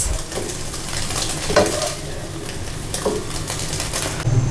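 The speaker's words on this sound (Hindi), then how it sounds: "हमारा अंडा फ्राई हो गया है। अब हम इसको भी इन वेजिटेबल्स के साथ ऐड कर लेते हैं" A fried egg is stir-fried with vegetables in a pan for restaurant-style Chinese rice, giving a continuous loud sizzle broken by repeated spatula scrapes and clinks against the pan.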